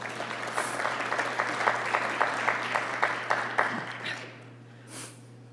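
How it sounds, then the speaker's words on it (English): Conference audience at an interprofessional education and practice event applauding, with close, regularly spaced claps over a steady hum that fade out after about four seconds. "Give yourselves a round of applause."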